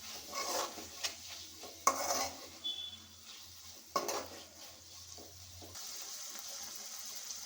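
Spinach fry with coriander is stirred in a pan, giving soft scraping strokes and light sizzling, with a couple of sharp utensil knocks against the pan, fairly quiet and close, no voices.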